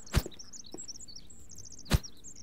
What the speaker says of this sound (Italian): Uccellini.